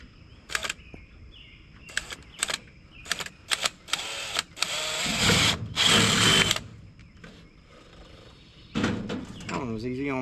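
Power drill driving screws into a cargo trailer tool box, several short whirring bursts followed by two longer runs of the motor, close by, with a person talking between the bursts.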